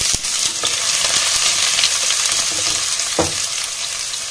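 Chopped onion frying in oil with cumin and black gram lentils for a radish-leaf stir-fry, a steady close hiss of sizzling throughout with a few sharp spatula scrapes and clicks against the pan.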